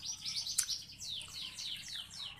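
A canary chirps in a rapid series of high, bright tweets and trills, close and fairly loud, with no talk.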